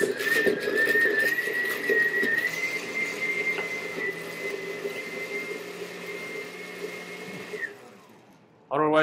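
A blender pulses hot sauce ingredients in a kitchen, its steady motor whine running loud for about seven and a half seconds before cutting off, with faint talk underneath.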